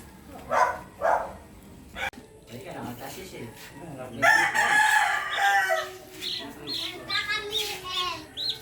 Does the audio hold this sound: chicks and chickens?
yes